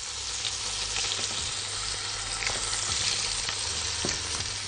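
Chicken pieces turned over to brown in a pan of hot oil sizzle and crackle steadily, a dense even hiss with occasional small pops, close and alone.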